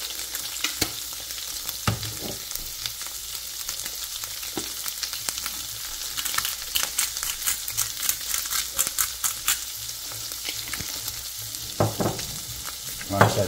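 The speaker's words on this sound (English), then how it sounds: "add in his piece of fish, skin side down" A piece of fish fillet sizzles skin side down in a hot pan with browned butter, a steady crackling fry with bursts of spitting pops close up and no talking.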